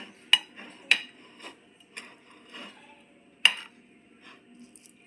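A tray holding coconut burfi mixture, greased with ghee, is tapped to settle it, giving a few sharp, close metallic knocks with softer taps in between in a quiet kitchen.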